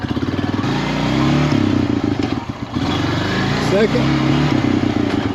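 A Honda Rancher ATV with an electric shifter running close by, its engine chugging in a steady loud rhythm with a brief dip as it shifts gear, while someone says a word over it.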